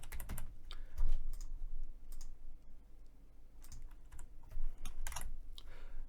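A phone number is typed on a computer keyboard, a quick run of close, crisp key clicks in uneven bursts with short pauses and no talk.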